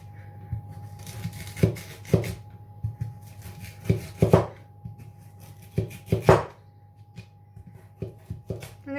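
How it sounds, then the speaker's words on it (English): Sweet potatoes being cut on a board, a series of sharp knife chops in uneven bursts, close and fairly loud, some quick and clustered, others spaced apart, with no talk. "I'm going to cut some thin, some thick"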